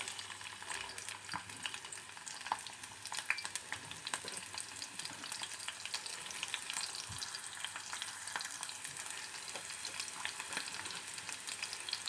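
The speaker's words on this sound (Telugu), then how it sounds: "ముందుగా పచ్చిమిరపకాయలు వేసుకుందాం, తర్వాత" Green chillies and onions fry in hot oil for a Telangana goat liver fry, giving a continuous faint crackling sizzle throughout with no voices.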